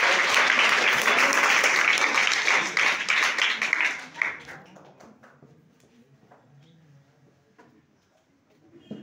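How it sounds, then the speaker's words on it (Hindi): Energetic applause from an audience at a coaching event, loud dense clapping for about four seconds that fades into scattered claps and quiet room tone. "एक बार ऊर्जावान तरीके से तालियों से मोहित सर का स्वागत"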